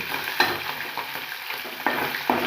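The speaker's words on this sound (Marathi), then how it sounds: "मी पनीर काय करते त्याला फ्राय करते ना तर हे फ्राय केलं ना" Paneer cubes frying in a pan for matar paneer, a close steady sizzle broken by several sharp clacks of a spatula turning the pieces.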